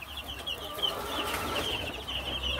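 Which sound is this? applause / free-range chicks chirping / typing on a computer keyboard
free-range chicks chirping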